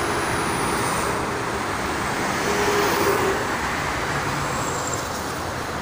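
A loud, steady roar of traffic passes close by on the Jakarta-Cikampek toll road, a continuous wash of tyre and engine noise with no talking.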